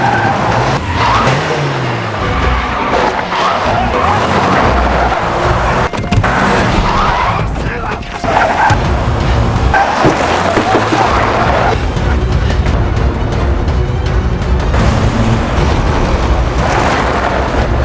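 Film car chase with cars crashing. Engines roar, tires screech and skid, and heavy impacts and bangs come in loud, dense bursts throughout. Some voices are faintly audible beneath the din.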